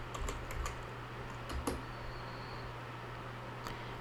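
Keys clatter on a computer keyboard in short bursts and scattered taps, with a steady low hum underneath while someone types a path during an Oracle Database 19c silent install on Oracle Linux 7.9.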